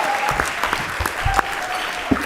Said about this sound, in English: Mr. Bogle, give him another round of applause.